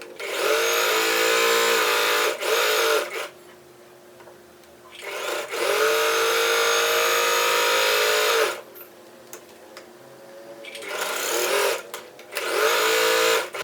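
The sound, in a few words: sewing machine stitching both sides of a tote bag handle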